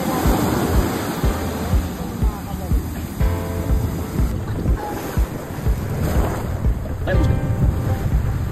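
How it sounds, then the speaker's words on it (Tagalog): Big ocean waves roll in toward a boat at sea, a loud churning wash of water with wind buffeting the microphone and a voice speaking over the surge. "Laki ng alon. Papunta yan dito."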